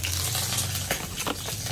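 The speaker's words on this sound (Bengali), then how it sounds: "জিরে ধনে ফোড়নটা হচ্ছে" Cumin, black cumin and coriander seeds sizzle in plenty of hot oil in a kadai, tempering before fish is fried; a steady, close hiss of frying with a few brief stirring clatters, no talk.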